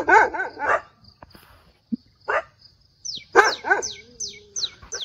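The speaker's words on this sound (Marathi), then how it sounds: "मायले कुत्रे काय भुकू राहिली" Several loud nearby barks in bursts with pauses, followed by a series of high chirping or whimpering calls.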